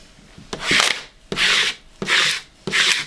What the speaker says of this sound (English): you can even follow it through with like a squeegee to make it nice and even